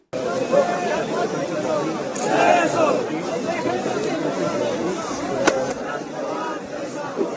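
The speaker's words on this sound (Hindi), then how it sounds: "जरा इस भीड़ की आवाज को थोड़ा महसूस कीजिए, ये लोग कह क्या रहे हैं" A large crowd of Sharad Pawar supporters at a rally in Maharashtra, a steady, loud roar of many voices shouting and chanting together that carries on throughout.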